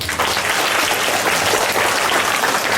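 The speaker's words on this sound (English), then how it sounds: "I think Bhavika deserves a big round of applause." Schoolchildren and teachers at a declamation competition give Bhavika a big round of applause after her speech, loud, continuous clapping from a crowd that stays dense and even for nearly three seconds with no one talking.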